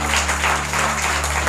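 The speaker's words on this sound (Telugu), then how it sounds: "let's give a clap offering to Jesus" A church congregation claps in a continuous, dense wash of applause, steady and loud throughout the short moment, with a sustained musical hum beneath it.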